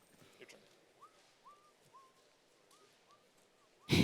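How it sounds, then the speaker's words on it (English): A person whistles during a Magic: The Gathering Pro Tour card match, a faint, distant string of short, gliding notes repeated at a steady pace over quiet room murmur, cut off by a sudden loud burst at the end. "He's just whistling his merry way along this match."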